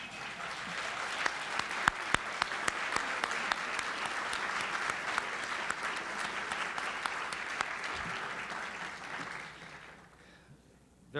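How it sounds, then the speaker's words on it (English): Sustained applause at a civic luncheon for the mayoral candidates, many hands clapping in a dense steady wash with a few sharper nearby claps, fading out toward the end. "I think they deserve an applause."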